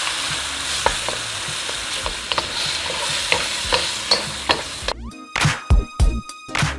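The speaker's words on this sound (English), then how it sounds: "on a hot pan and then the shrimp. Let it cook until they become tender" Shrimp frying on a hot pan for stir-fry rice, a close, steady sizzle with light stirring scrapes, giving way near the end to several loud, sharp clanks of a utensil against the pan.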